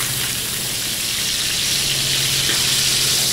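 Duck sizzling hard in a pan heated to maximum, a loud, dense, steady crackle and hiss that continues without a break and has no talking over it.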